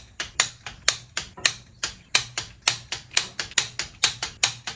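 Series of sharp, evenly spaced clicks from a torque wrench on Volvo B20 cylinder head bolts during a head gasket job, about fifteen crisp ticks in quick rhythm, close and clear with no talk.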